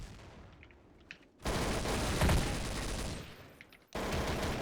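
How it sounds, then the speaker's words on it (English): Dense bursts of automatic gunfire from Counter-Strike: Source come loud and close in two long sustained volleys. A brief quieter gap sits between them. "I think I might have to shoot now."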